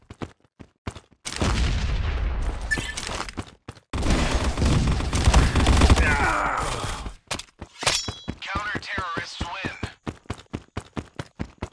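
Grenade explosion and gunfire in the shooter game Modern Ops, bomb mode: two long, loud roaring blasts, then a steady run of sharp, evenly spaced shots fading toward the end.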